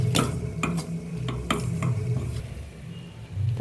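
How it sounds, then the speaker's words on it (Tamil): Rice flour dough is stirred with jaggery syrup in a pot for sweet Chettinad kozhukattai, giving close scraping and sticky thuds with a few sharp utensil clacks over a low simmering hiss. "இந்த மாவை நல்லா கிண்டிக்குவோம்."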